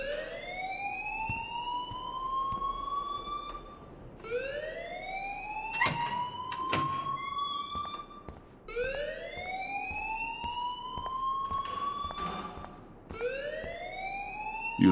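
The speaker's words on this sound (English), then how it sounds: "please turn off that alarm since that's your job" Repeating rising electronic alarm wails sounding in the video game Life is Strange, each sweep climbing over several seconds before restarting, loud and steady with brief clatters in between.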